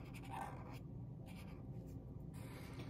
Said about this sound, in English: going over my pencil marks